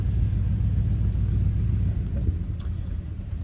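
A nearly 50-year-old 1971 car on its original drivetrain runs with a steady low rumbling engine drone from inside the cabin, even and continuous, no talk.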